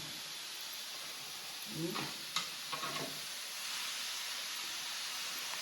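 A soft, steady sizzle hisses from a hot griddle as vegetables roast without oil, with a few light scraping and stirring sounds in the middle.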